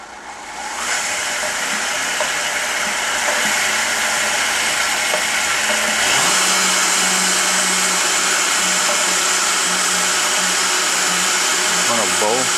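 An electric grinder whirs loudly while grinding ingredients, its motor spinning up into a harsh, steady high whine that jumps in pitch midway and keeps running, then shifts near the end. Someone speaks faintly under the noise.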